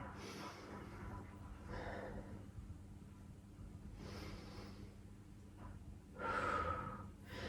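Slow, deep breaths during a yoga stretch held in a low lunge with the back knee pressed into the mat, soft and faint, with a few audible inhales and exhales and a louder breath near the end.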